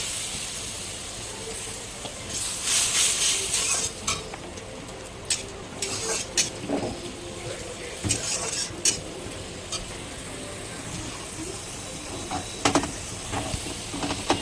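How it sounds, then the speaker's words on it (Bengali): Spice paste sautéing with a little water in a pan for a taro-leaf (kochu shak) dish, a steady soft sizzle broken by repeated spoon scrapes and light clinks against the pan, close by and with no talking. "একটুখানি জল দিয়ে মশলাটাকে সুন্দরভাবে কষিয়ে নিতে হবে।"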